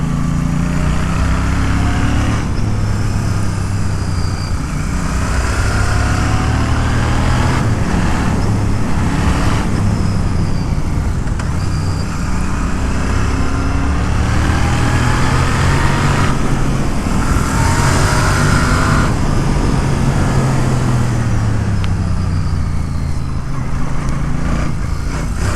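A Royal Enfield Interceptor Bear 650 motorcycle engine drones steadily and loudly while riding on a tarmac road, with continuous wind and road roar throughout and no voices.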